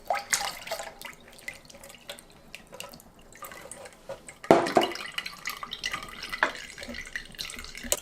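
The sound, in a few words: water being poured for lemonade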